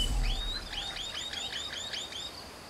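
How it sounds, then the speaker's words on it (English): Birdsong in the prehistoric-survival game Ancestors: The Humankind Odyssey, a bird repeating a clear, rising chirped phrase about eight times in a steady rhythm, moderately close over a soft jungle ambience. "I love the bird sound in this."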